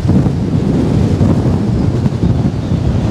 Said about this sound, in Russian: Такой сильный ветерочек подплывает.